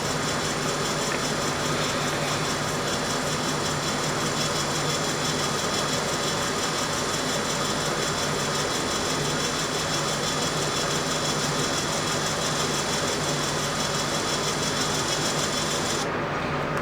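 Small SCX24 RC crawler fitted with Injora 1/12T underdrive gears runs continuously with a steady whirring motor and gear drone, moderately loud and close, with no talking.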